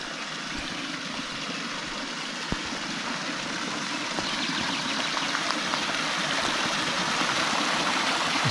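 Drinkable spring water trickling at a campsite on a bike trip, a steady close rushing flow with faint droplet splashes and no voices.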